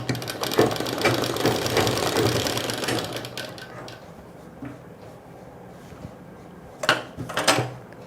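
A sewing machine stitching a nighty runs in a steady fast whir for several seconds, then stops, followed by a few clunks of handling the fabric and machine.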